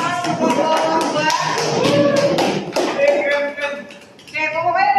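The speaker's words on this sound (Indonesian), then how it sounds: "kita beri tepuk tangan untuk kelompok dua" Scattered classroom clapping for a student group, uneven taps and a few claps from nearby hands, with voices talking over and after it.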